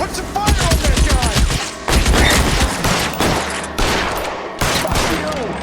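Gunfire in the video game L.A. Noire, repeated loud shots in rapid bursts with short pauses between volleys, close and sharp, with someone shouting over parts of it.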